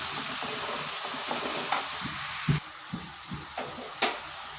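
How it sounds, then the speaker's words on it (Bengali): Chopped bottle gourd being stirred into fried spice masala in a pan, with a constant sizzling hiss and a few sharp scraping clacks from the spoon toward the end. "এরপর এখানে দিয়ে দিচ্ছি কেটে রাখা লাউগুলো। ভালোভাবে মশলার সাথে মিশিয়ে নিচ্ছি।"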